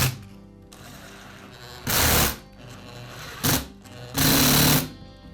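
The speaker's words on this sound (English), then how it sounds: "I'll secure the gear case housing to the motor housing with the screws" Power driver running screws that secure a DeWalt chop saw gear case to its motor housing: three short loud whirring bursts of different lengths, close up over a low steady background hum, no talk.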